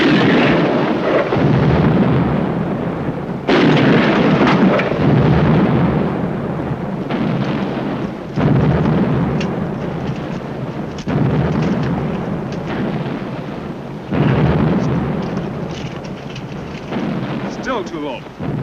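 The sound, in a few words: 9-pounder cannon artillery fire in film battle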